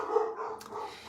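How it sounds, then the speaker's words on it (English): Dogs barking indoors nearby, a short burst of mid-pitched barks and yips over about a second, moderately loud with no talk over them. "sorry for my dogs."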